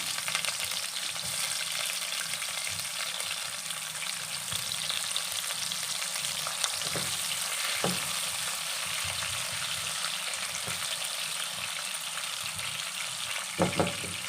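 Chopped onions fry in a pan with a continuous hiss, broken by a few light clatters as they are stirred, close and alone without talk.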